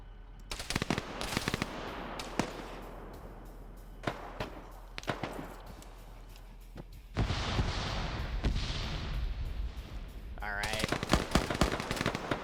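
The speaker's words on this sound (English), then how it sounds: "More shots coming in, I think, by some rooftop gunners here." Rooftop gunners open fire in the video game High Kommand, sending bursts of sharp gunshots and rapid volleys that stop and start, with heavier sustained fire in the second half and a voice commentating over it.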